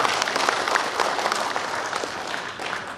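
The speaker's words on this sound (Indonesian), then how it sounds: "Aplaus dong buat kita." Audience applause at a regional work meeting of a security services association, steady dense clapping filling the whole stretch at moderate loudness with faint crowd noise underneath.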